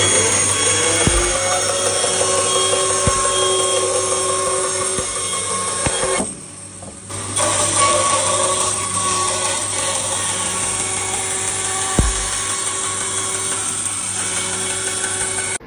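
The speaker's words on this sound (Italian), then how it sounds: "quindi Gabriele, accendiamo la sega a nastro" A band saw cuts a thick wooden plank in a woodworking shop with a steady whining drone and a brief drop midway. Sharp clicks sound here and there, and nobody speaks.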